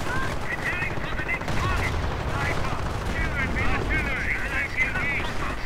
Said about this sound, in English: And artillery being directed against Loveleiarde's position, I think.